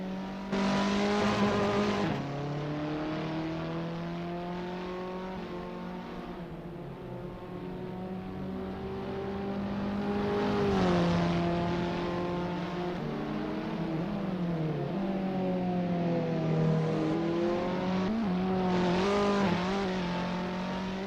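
Several Abarth 500 race cars from the Assetto Corsa racing game warm up at the Pau street circuit, their engines droning and revving continuously at close range with shifting pitch as they accelerate and pass.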